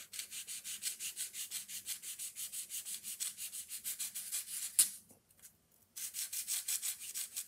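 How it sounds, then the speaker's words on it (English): A small part from an Edison Home phonograph ratchet pawl and speed control is pushed flat and rubbed back and forth on 600 grit sandpaper, giving steady rhythmic scrubbing strokes with a short pause near the end before resuming. "600 grit sandpaper, and I'm going to push down so it's flat."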